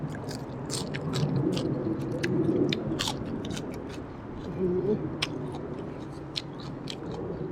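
Someone chews crisp raw vegetables with a spicy Thai shrimp salad, giving close, loud crunching bites and wet chewing in an irregular rhythm, with a little voice in the background.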